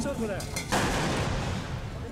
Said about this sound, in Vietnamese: Mỗi khẩu pháo có 3 chiến sĩ điều khiển, gồm một người nạp đạn, một người lên đạn và một người giật cò.